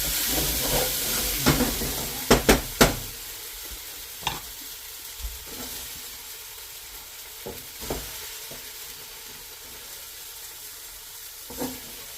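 Beef for a stew browns in a hot pan, a steady broad sizzle broken by several sharp clanks and scrapes of stirring early on, then quieter hissing with occasional taps.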